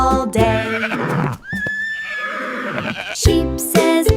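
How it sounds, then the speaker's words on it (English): A horse neighs in a shrill, wavering whinny in the middle, set within a bright children's farm-animal song with musical backing before and after. "the horse goes neigh, neigh, neigh, dancing in the field all day"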